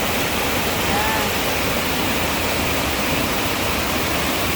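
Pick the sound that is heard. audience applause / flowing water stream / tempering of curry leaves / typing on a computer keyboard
flowing water stream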